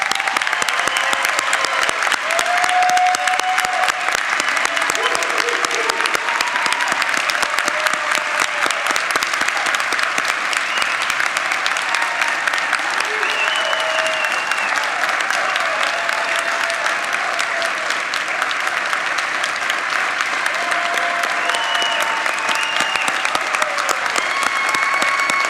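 Sustained applause from the audience at a nursing school pinning ceremony, a dense, loud wash of clapping from a large crowd that continues evenly for about 25 seconds, with faint voices and cheers mixed in.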